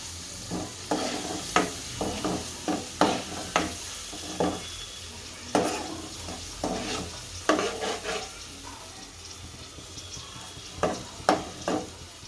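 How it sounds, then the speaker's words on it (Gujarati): Onion gravy sizzles in a hot pan while a spoon stirs it in irregular scraping strokes, a steady frying hiss underneath for Gujarati rajma, close and moderately loud with no voices. "હવે કાંદા ગ્રેવી નાખશો અને સરસ કરી લઈશું ગરમ"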